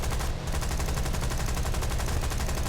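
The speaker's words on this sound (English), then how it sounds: "I'm reloaded, going in, guns blazing." Aircraft guns in the Bomber Command video game fire at ground targets in one sustained, rapid automatic burst, with loud, evenly spaced shots running without a break.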